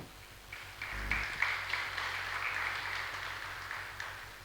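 A crowd at a religious discourse applauds continuously, a dense patter of many clapping hands that swells slightly and holds steady throughout.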